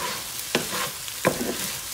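Egg being stirred into fried rice in a hot pan under a constant soft sizzle, with two distinct scraping strokes of a utensil against the pan, close and moderate, no talking.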